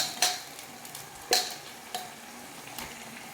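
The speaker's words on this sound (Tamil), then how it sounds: "நல்லா கலந்துக்கலாம்" Chicken and potatoes are being stirred together in a pan. A few sharp utensil scrapes and clinks ring out at irregular intervals over a quiet, steady sizzle, with no talking.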